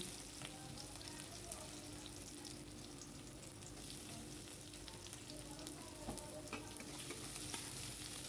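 Onions fry in a pan tempered with black cumin, giving a faint, steady sizzle with light stirring and no voices.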